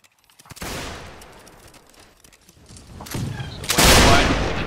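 Musket volleys crack out in a North and South battle game played with a regiment of foot, first one sharp volley, then two louder ragged bursts near the end, each trailing off into echo.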